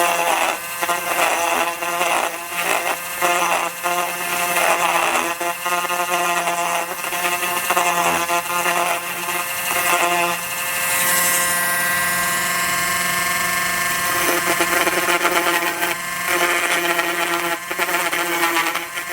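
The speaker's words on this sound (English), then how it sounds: "Dremel tool with a little grinding bit." A Dremel rotary tool with a small grinding bit buzzes continuously and loudly on a model glider's V-tail boom, its high whine wavering slightly as it bites.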